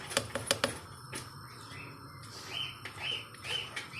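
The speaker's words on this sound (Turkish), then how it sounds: "Sultan papağanın sesi" A cockatiel calls with repeated whistled chirps amid a busy, noisy room, after a few sharp clicks at the start.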